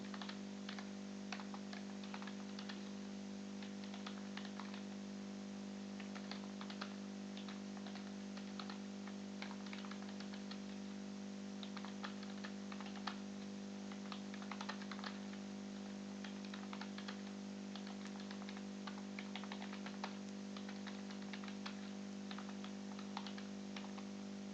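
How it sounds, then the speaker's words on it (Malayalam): Quick, steady key clicks on a computer keyboard while entering text in a word processor, soft and continuous over a constant low electrical hum, with no talking. "ഞാനിവിടെ ടൈപ്പ് ചെയ്തിട്ടുണ്ട്."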